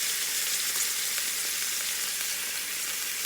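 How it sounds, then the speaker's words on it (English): Beef tips sear in a hot pan for a crockpot recipe, giving a steady, close sizzle and crackle of frying meat that runs evenly throughout with no voices. "all you're doing in here is getting a good sear on it"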